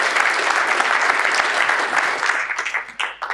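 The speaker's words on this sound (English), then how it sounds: "Can we please give a round of applause to Graham?" A conference audience gives a round of applause for a speaker about monkey-patching, the dense clapping steady at first and then thinning into scattered individual claps as it dies away.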